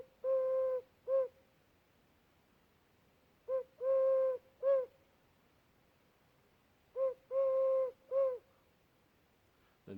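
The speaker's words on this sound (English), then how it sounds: "What it actually is a 12-hole ocarina." A 12-hole ocarina plays a pigeon-style cooing call outdoors, three phrases of soft hollow hoots, each a short-long-short pattern separated by pauses, fairly close and alone.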